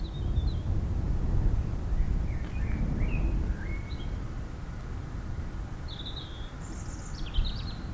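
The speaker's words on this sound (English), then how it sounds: "I like listening to the birds." Morning birdsong outdoors in spring: a few scattered chirps and short warbling phrases, fairly faint and distant, over a steady low rumble of wind.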